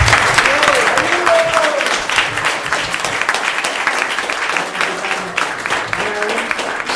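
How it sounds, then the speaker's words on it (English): Applause from the congregation at ISKCON Phoenix temple, sustained dense clapping from a crowd that fills the room for several seconds, loud and close, with a few voices mixed in. "So please give a big round of applause."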